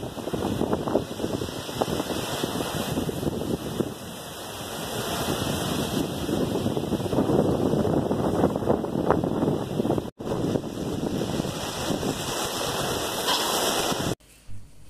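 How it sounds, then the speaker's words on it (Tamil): Strong wind blowing ahead of rain, buffeting the microphone as a continuous rushing roar that swells and eases, with a brief dropout and an abrupt cut near the end. "பயங்கரமான காற்று அப்புறம் மழை."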